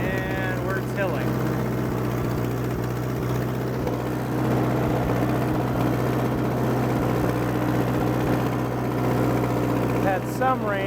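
A 2020 Allis-Chalmers D14 tractor plows and tills a garden in the fall, its engine a constant close, loud chugging drone with a deep steady hum and occasional rises in pitch.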